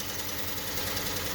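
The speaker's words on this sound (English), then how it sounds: "Whoa, this is a dead hardcore misfire." A 3.6L Pentastar engine idles with a hard misfire, a steady close-up rumble with an uneven, knocking rhythm.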